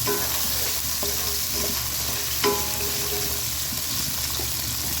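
Onions hit hot oil in a wok for a meat dish and sizzle in a steady, close hiss, with occasional scraping stirs and light clinks over the frying.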